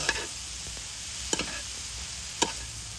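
Grated carrot fries in a pan for manda pitha filling with a faint, steady sizzle. Two or three soft stirring scrapes stand out, and no one speaks.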